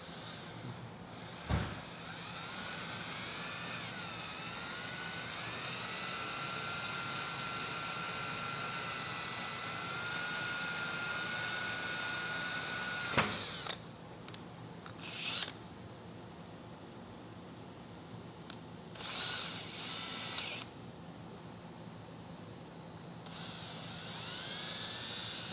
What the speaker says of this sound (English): So we'll start with our 3/8 drill bit